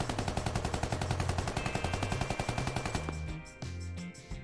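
Rapid automatic gunfire from a tactical shooter video game, a steady rattle of close, loud shots for about three seconds, then a few heavier, sparser bursts with no talking.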